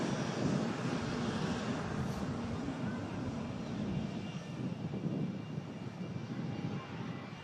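An Atlas Air Boeing 747 departs Manchester Airport, its jet engines making a steady, broad, rumbling roar that holds for the whole stretch at moderate distance.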